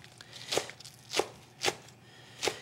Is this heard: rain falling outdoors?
no